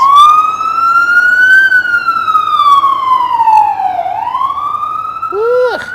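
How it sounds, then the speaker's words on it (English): An emergency vehicle siren on a New York City street wails loudly and close by, its pitch sweeping in long rising and falling glides as it passes, with a brief yelp burst at the end. "Fire trucks, paramedics, police cars, when they roll by you, you gotta cover your ears."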